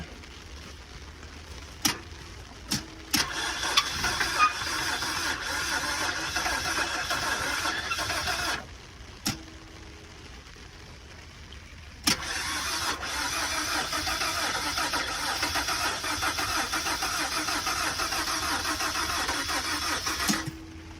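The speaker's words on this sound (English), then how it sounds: "it sounds like the starter's bad" A Hyundai Sonata's engine, hooked to a jump box with a bad starter, cranks in a few short stuttering bursts, then churns steadily for several seconds, stops, and cranks again at length without catching.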